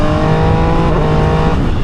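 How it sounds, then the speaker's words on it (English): A 2022 MV Agusta Dragster 800 RR motorcycle on its stock exhaust howls at high revs during a ride. It holds a loud, close, steady snarl for a couple of seconds with a slight pitch waver. "That is a stock exhaust, ladies and gentlemen. Stock exhaust is what you're hearing right now."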